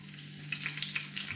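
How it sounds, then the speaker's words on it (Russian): Cabbage rolls with meat sizzle and crackle in a hot pan, with a soft steady frying hiss and small popping spurts, close up and without talking. "Сейчас хочу показать, как я их обжариваю."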